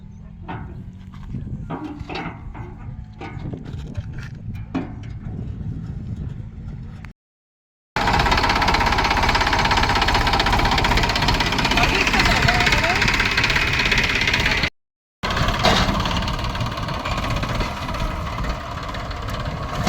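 A tractor engine starts up and runs steadily in a village field before ploughing, a loud, continuous low rumble with two brief dropouts, while people talk over it.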